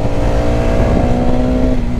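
A Hero Karizma XMR 210 motorcycle pulls hard in third gear after a downshift, its engine roaring loud and steady at close range with a rising, sustained exhaust note and no talk.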